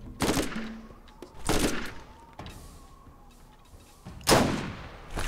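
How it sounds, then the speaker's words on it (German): Loud bursts of gunfire from the video game Borderlands crack out in three separated volleys, each a sharp blast with a brief tail, over a quiet background. "Ich schieße jetzt auf Bonehead."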